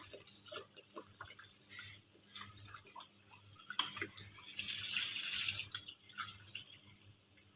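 A full litre of full-cream UHT milk poured into a cooking pan streams steadily in a close, continuous liquid rush that swells louder toward the end, with no talking.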